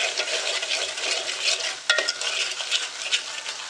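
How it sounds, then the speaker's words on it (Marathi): A thick masala mixture for misal is stirred in a pan, with a steady, close scraping and sizzling texture throughout and a brief louder clink midway. "आपण हे छान असं मिक्स करून घेऊया."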